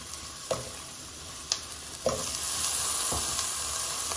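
Onions, leek and carrots hit hot fat in a pot with a few sharp clinks and splashes, then settle into a steady, loud sizzle that continues to the end.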